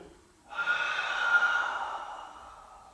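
A single long, audible inhale through the nose or mouth during a pilates exercise, close and clear, swelling after a brief quiet start and fading gently over about two seconds, with no talking.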